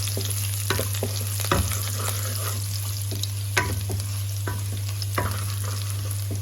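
Chopped garlic and fenugreek leaves fry in a pan, a continuous close sizzle with repeated scraping stirs at uneven intervals over a steady low electrical hum, no talk.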